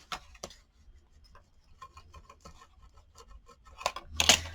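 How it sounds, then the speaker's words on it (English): Paper is burnished onto a gingerbread house project by hand, giving soft close rubbing and scraping strokes in an uneven rhythm that grow louder toward the end. "And I'm going to burnish it in."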